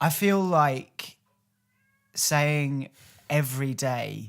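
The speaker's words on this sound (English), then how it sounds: "Is that your cat? That is my cat." A pet cat meows loudly and close in several long, wavering calls separated by short pauses, with a brief quiet gap in the middle; a person speaks briefly between the cries.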